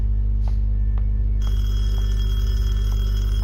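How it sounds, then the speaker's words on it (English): A telephone rings in the horror game Detention, a faint, distant, repeating tone set against a heavy low drone, with no talking. "Can you hear the sound of the phone?"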